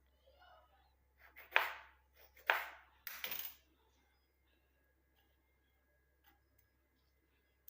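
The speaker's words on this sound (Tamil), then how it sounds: "சீவிட்டு இதை கொஞ்சம் பொடுசாக நம்ம கட் பண்ணி போட்டுக்கலாம்" A small tomato is chopped into pieces with a knife, giving three crisp, close cutting knocks in quick succession before the room goes quiet.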